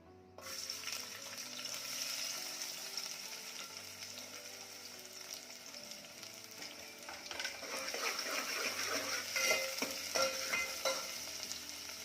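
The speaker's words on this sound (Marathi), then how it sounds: "तेल छान गरम झालं, यामध्ये टाकूयात कांदा" Chopped onion hits hot oil in a pan for a spicy Kolhapuri chicken rassa, giving a steady sizzle and frying hiss with occasional stirring scrapes, loud and close and continuous throughout, no talking.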